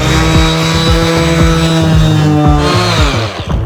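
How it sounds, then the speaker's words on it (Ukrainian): A Dnipro-M DSO-200BC cordless random orbital sander runs loud and close while sanding wood and metal, a steady high motor whine with rising and falling tonal sweeps as pressure shifts, no talk. "Отож, ми відшліфували деревину, відшліфували метал"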